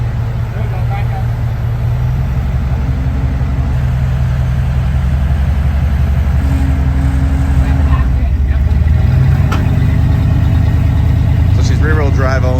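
A rear-wheel-drive off-road vehicle idles and revs at low pitch while maneuvering on a climb, with a steady engine drone that rises near the end, heard alongside voices.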